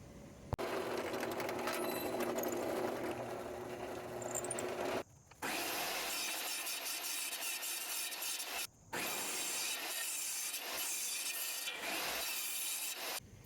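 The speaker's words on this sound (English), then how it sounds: "So I'm going to go drill a hole and do these two." A hole is drilled through a wooden disc to make a cylinder wheel for a homemade 2x72 belt sander, the steady grinding whine running loud and close for several seconds, broken by two brief pauses.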